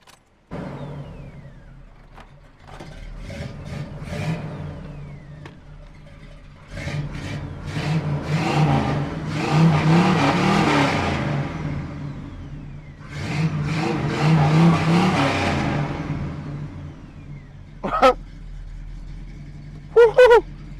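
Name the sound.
car engine revving on race fuel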